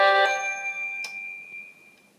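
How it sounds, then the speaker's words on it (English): A phone message alert chimes once, a bright bell-like ding that rings out and slowly decays, with a faint second tap following, close and clear in a quiet room. "it's just a message on my phone"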